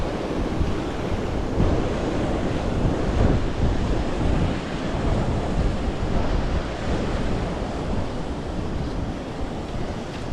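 Talla waterfall rushing and squeezing through rocks, a loud, steady roar of churning water with no break, close by and without talk.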